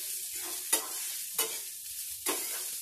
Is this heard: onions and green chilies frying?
yes